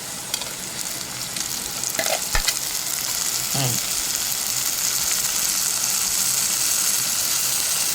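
Tomatoes frying and being stirred in a pan for a fish curry, a loud steady sizzle with a few scraping stirs, close up and alone without talk.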